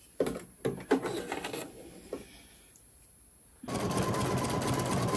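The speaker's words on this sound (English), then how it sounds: "As your design is stitching out" A Husqvarna Designer Epic 3 embroidery machine stitches out a design, its needle first tapping in a few quick bursts, pausing, then settling into a steady, fairly loud mechanical whirr close by, with no talking.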